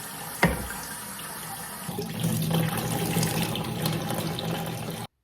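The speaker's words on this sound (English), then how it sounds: "Then I'm going to rinse it with some fresh, clean water one more time and drain it again." Fresh water pours and splashes over sprouting barley in a container at a sink, a steady running-water rush lasting several seconds after a brief knock, then stopping abruptly.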